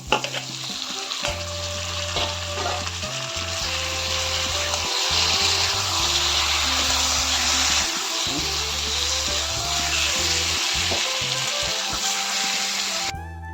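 Loud sizzling and frying of potatoes and eggplant in hot oil fills the scene, with scraping stir sounds repeating throughout.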